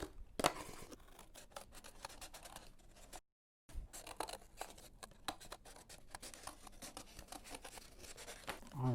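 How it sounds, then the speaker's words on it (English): Scissors cutting a circle out of cardstock make repeated crisp snips and rough scraping rasps, close and fairly quiet, with one brief silent gap in the middle. "once I get on that circle, then I will go ahead and continue to cut"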